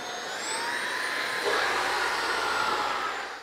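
A vacuum cleaner running with its upholstery brush attachment gives a steady, close, loud whooshing roar with a high whine. The sound grows slightly fuller partway through, then cuts off at the end.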